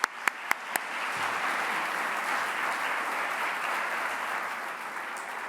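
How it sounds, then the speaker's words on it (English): A few sharp, close individual claps at the start swell into steady, moderately loud applause from the crowd at a community volunteer awards party, holding evenly to the end. "Now for the applause."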